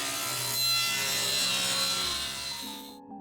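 A saw cuts at a 20-degree angle through a wooden table leg standing on edge, a close, steady rasping stroke that stops abruptly at the end.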